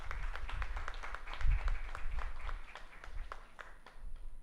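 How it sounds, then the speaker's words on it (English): A small event audience claps for the organizing team, giving sparse, fairly soft applause with distinct individual claps, under a low background rumble. "A big round of applause for entire organizing team."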